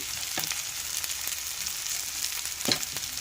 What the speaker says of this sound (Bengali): আদা রসুন এগুলো একটু ভাজা ভাজা হয়ে গেলে